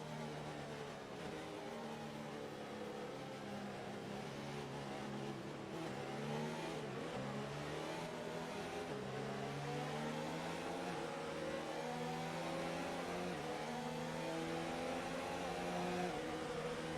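A pack of race cars hums steadily behind the safety car in a racing video game at the Azerbaijan circuit, engines droning at moderate revs with gently rising and falling pitch, sustained and fairly faint.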